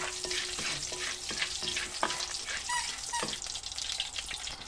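Onions frying in a pan, a steady close sizzle with occasional stirring scrapes and a few light clinks, no talking.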